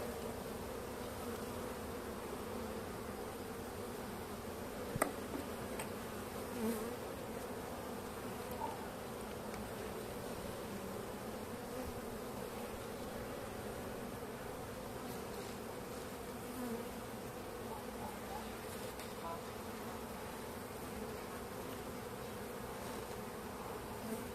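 Anatolian honey bees hum in a dense, steady drone during a late-winter hive inspection, the buzzing close and continuous throughout with only a faint knock partway through.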